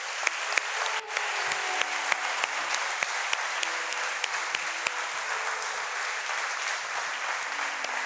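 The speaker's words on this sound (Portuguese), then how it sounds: "Vamos aplaudir a ele é digno." A church congregation applauds during a sermon, steady moderate clapping that continues evenly throughout, with faint sustained tones underneath.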